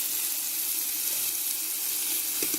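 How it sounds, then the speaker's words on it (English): Onions, tomatoes and spices for Kolhapuri misal fry in a pan with a continuous close sizzle and a couple of brief stirring knocks near the end. "Take all this into a fry pan and we are going to fry all of these items till the onion becomes golden brown."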